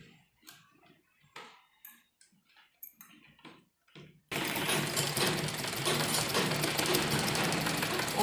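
A sewing machine stitches lace onto the front slit of a salwar suit made from a saree. It starts abruptly after a few seconds of light handling noise and then runs continuously, loud and close, with a dense mechanical whirr.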